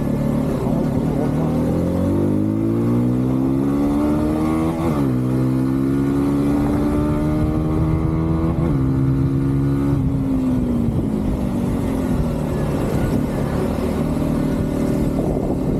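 A Yuki GP2 motorcycle accelerating on an everyday ride, its engine note climbing through the gears with brief dips at each shift, loud and close under steady wind noise.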